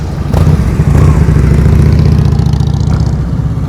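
A motorcycle engine runs loud and close with a steady low rumble and slight throttle pulses during slow-speed riding practice, no talk.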